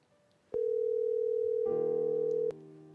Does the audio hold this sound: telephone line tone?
yes